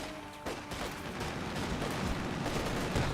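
A decoy artillery barrage in the game Company of Heroes 2 rumbles as dense, continuous blasts and crackling gunfire, loud and sustained for several seconds with no voices.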